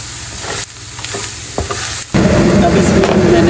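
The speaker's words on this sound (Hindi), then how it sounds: "अब इसमें मैंने आलू डाल दिए, अब इसको अच्छी तरह मिक्स करेंगे" Potatoes stirred into red chilli, turmeric and garam masala frying in a pan, with scraping spatula strokes over a sizzle that grows louder and denser after a brief pause.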